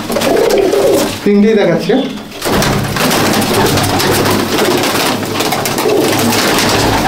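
Old-breed Madrasi pigeons, including a white-headed bird, cooing in a low continuous murmur close by, while someone talks over them at the start.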